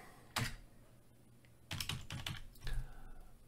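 Computer keyboard keys clatter in a few short bursts of typing while code is entered, close and fairly quiet, with pauses between bursts and no talking.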